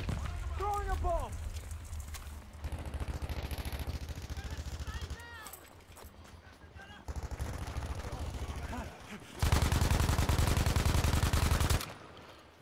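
Gunfire in a video game, rapid bursts of automatic shots with explosion-like rumbles and game effects, loud and continuous, ending in a dense sustained stretch of firing, with a voice talking at times.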